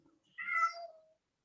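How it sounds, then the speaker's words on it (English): A house cat gives a single short meow, a quiet, clear call lasting under a second against silence. "And you got your cat there with you also listening"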